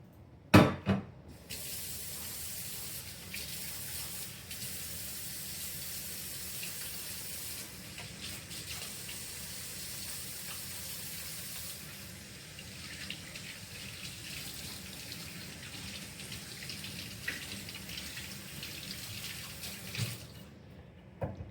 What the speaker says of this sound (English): Go wash your hands.